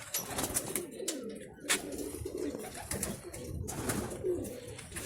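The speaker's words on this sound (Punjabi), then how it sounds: "ਆ ਕਬੂਤਰ ਆਪਾਂ ਬਾਹਰ ਕੱਢਤੇ" Pigeons coo in low, throaty murmurs close by, mixed with fluttering and scuffling sounds.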